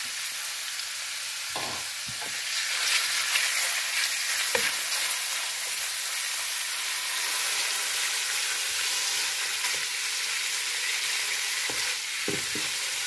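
Button mushrooms stir-frying in a pan, a steady close sizzle with scattered knocks and scrapes of a spatula stirring, no voices.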